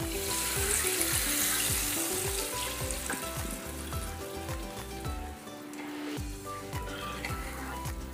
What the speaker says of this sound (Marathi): आपण आता यात बेसन पीठ टाकून जे ताक बनवून घेतलेलं होतं ते ॲड करू।